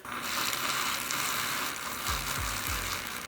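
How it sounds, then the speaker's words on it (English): A milk frother whisks protein ice cream ingredients in a container with a dense, continuous whirring buzz, joined near the end by a few low knocks. "you're gonna whisk it with a frother"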